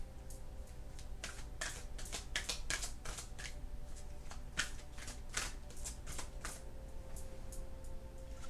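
A deck of astrology cards is shuffled by hand, a run of quick riffling bursts and soft slaps in an uneven rhythm, close and quiet with no talking.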